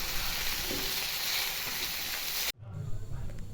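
Pork with banana flower dry-frying in a pan gives a steady, close, even sizzle that runs unbroken, then cuts off abruptly to a quieter, duller background near the end.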